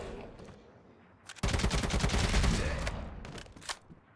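Automatic gunfire in the shooter game ZOZ: Final Hour, a sudden dense burst of rapid shots that rattles on for a couple of seconds, loud and close, then tapers into a few scattered shots.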